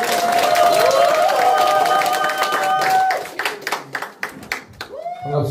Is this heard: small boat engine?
no